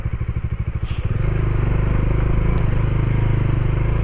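A motorcycle with alloy wheels rides over a rough, water-logged road with big potholes, its engine chugging close and loud, clattering and jolting briefly before settling into a steady, rumbling run.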